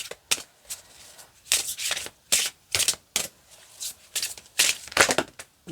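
Oracle cards shuffled by hand in a run of brisk riffling bursts, several quick rustling passes with short pauses between them, close and clear with no talking.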